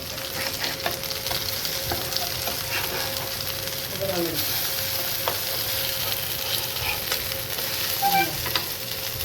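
Kolim wadis, Agari-style small shrimp fritters, frying in a pan over a low flame after being flipped, with a steady continuous sizzle throughout and a few light scrapes.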